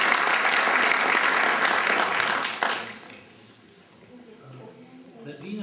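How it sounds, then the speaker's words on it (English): Reunion audience of the IIT Kanpur class of 1977 clapping loudly for the batch coordinators, dense applause that cuts off sharply partway through and gives way to quieter room sound and murmuring voices. "So kindly have a big applause for them."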